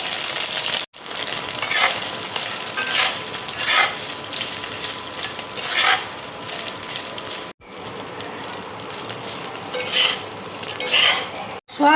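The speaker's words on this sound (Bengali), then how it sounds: "এবার দেখো সয়াবিনটা আমি দিয়ে দিচ্ছি।" Soybean chunks fry in hot oil in a wok with whole coriander seeds, a loud steady sizzle broken by repeated scraping strokes of a spatula, with no talking.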